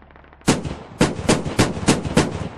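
A .50 cal machine gun on a rooftop in Squad fires loud, heavy bursts, roughly six booming shots spaced a third of a second apart, each with a rolling echo.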